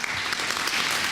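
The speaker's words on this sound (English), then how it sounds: "Applause erupted for Mayor Bloomberg," An audience bursts into sustained, dense applause after a speech on education by Mayor Bloomberg, loud and steady throughout with no voices over it.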